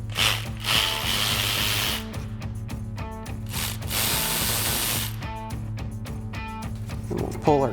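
A ratchet clicks in quick rhythmic bursts while rear brake caliper bolts on a Jeep Wrangler JK are broken loose, with a low steady hum underneath and a person talking over it.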